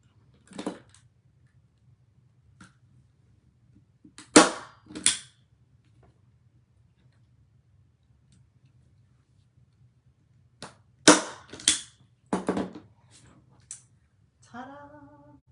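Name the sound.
staple gun stapling canvas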